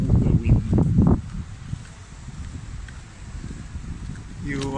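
Wind blows outdoors among bare, leafless trees, a steady low rumbling buffet against the microphone lasting throughout, after a brief voice at the very start.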